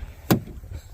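A pickup truck door thumps once, close and fairly loud, against a steady low hum, with no one speaking.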